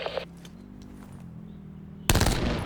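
Gunfire erupts in Call of Duty: Black Ops 4, a loud burst of rapid shots that begins abruptly near the end after a quieter stretch of game ambience.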